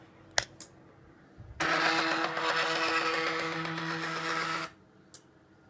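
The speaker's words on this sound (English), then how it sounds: "I call it the bishop move right now because it staggers the step motors one after another" Stepper motors drive an automated chess board across a move, giving a steady whirring, buzzing hum with a stepped tonal texture that runs for about three seconds and then stops cleanly. A few faint clicks come before and after.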